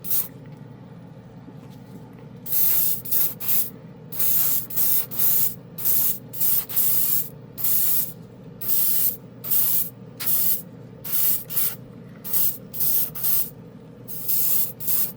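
Airbrush spraying acrylic paint thinned with rubbing alcohol, a run of short hissing bursts repeating steadily, close and clear over a low steady background hum.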